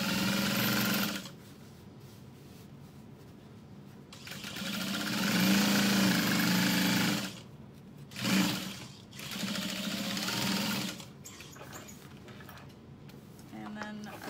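A sewing machine stitches through lining fabric beside vinyl, running in loud bursts of steady motor whir separated by pauses, with a voice talking in between and over the stitching.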